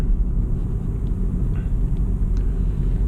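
A Chevrolet Spark speeds up through city streets past construction, its engine and tyre noise forming a steady, loud low rumble from inside the car, with no pauses and no talking.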